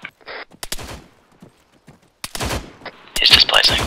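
Gunfire in the Arma 3 military shooter game: several sharp, loud single shots crack out at irregular intervals, with a quiet lull in between and a short burst of noisier fire at the end, alongside some talking.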